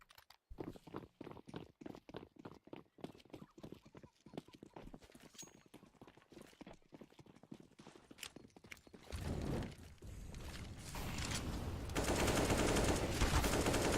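MP9 submachine gun fire in a Counter-Strike match, rapid rhythmic bursts of shots in quick succession, followed by a denser, louder stretch of noisy action toward the end, with no clear voices.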